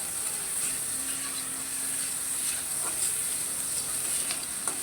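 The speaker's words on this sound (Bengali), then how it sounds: "আর এই যে আমি পেঁয়াজ মরিচ ভেজে নিচ্ছি" Onions with chili powder, turmeric and salt frying in oil left from frying fish, giving a constant soft hiss and sizzle with faint stirring, close and unbroken, with no voices.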